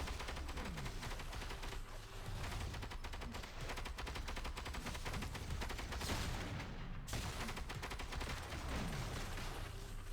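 The Punisher's weapons fire in Marvel Heroes Omega, Magnum shots cracking in quick succession over a dense layer of game effects. A sharp burst and a brief dropout come midway.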